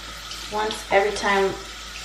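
Water from a tap splashes over a makeup sponge being rinsed in a sink, in brief bursts up close.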